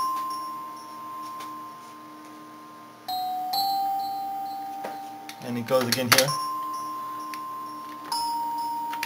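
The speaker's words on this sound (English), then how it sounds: "here he had a very nice glockenspiel type of sound" Bright, bell-like glockenspiel tones chime within a music track, sounding a few clear notes while someone talks over them.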